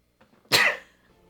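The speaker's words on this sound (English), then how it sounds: "I have to sneeze." A single sharp sneeze or cough-like burst, close and fairly loud, rising abruptly and fading within half a second, with faint room noise before and after.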